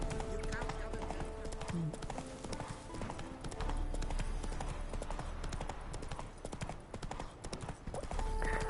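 Roach the horse in The Witcher 3 galloping at full charge, a rapid continuous clip-clop of hooves throughout with occasional game sounds, while someone talks over it.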